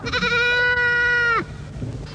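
A goat gives one loud, close, sustained bleat that ends abruptly, followed by quiet background.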